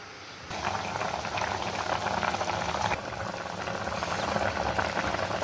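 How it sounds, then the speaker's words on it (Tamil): Coconut drumstick gravy boils in a pot with continuous close, bubbling and gurgling that grows fuller after the first half second and holds steady throughout. "நல்லா கொதி வந்துருச்சுங்க"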